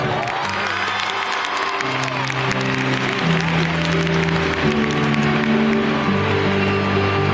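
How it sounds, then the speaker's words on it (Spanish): A large crowd applauds steadily at a concert at Fonteta San Lluís, a dense wash of clapping with cheers, while music with sustained tones plays underneath throughout. "un aplauso para él"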